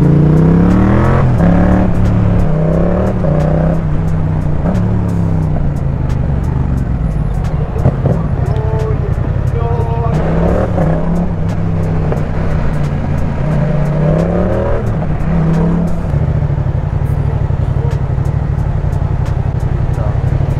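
A motorcycle fitted with a full exhaust system revs steadily, loud and close, with rising and falling throttle blips over a constant engine drone throughout.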